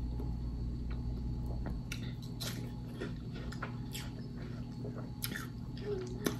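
Someone chews watermelon close by, with soft wet crunching bites at an irregular pace over a steady low hum from a restaurant, faint and intimate.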